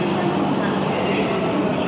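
A Japanese bullet train pulls into the platform, its loud, steady rushing roar filling the air as it arrives.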